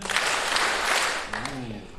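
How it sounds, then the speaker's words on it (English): An elementary school fourth grade promotion audience breaks into a dense burst of clapping that fades slightly toward the end, with a voice briefly audible over it. "3 Robb Power Claps for McKenna Sullivan."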